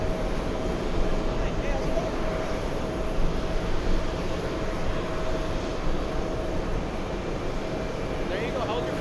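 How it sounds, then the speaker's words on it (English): Steady engine roar of an Etihad Airbus A350-1000 airliner at JFK, a broad continuous rumble with a faint whine on top and voices now and then beneath it. "It's a fellow Etihad A350. A350 1000."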